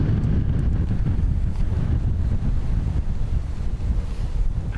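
Strong gusty wind buffets an outdoor microphone at Dublin Airport, producing a loud, continuous low rumble with steady roaring that never lets up, with no talking.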